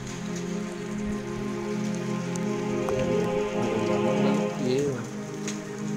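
Rain mixed with large hailstones pelting a surface in Abha, Saudi Arabia, a dense steady patter with scattered sharper impacts, while people talk faintly in the background.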